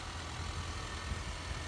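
A 2019 Ford Ranger XLT SuperCrew 4x4 with a 2.3 liter EcoBoost direct-injected turbocharged four-cylinder idles after a remote start, giving a steady, low, even hum heard alone and fairly close.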